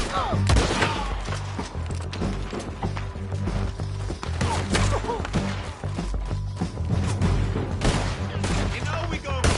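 Rapid gunfire in a Red Dead Redemption 2 shootout, with dense overlapping shots, crashes and impacts forming a loud continuous barrage, with background game sounds mixed in throughout.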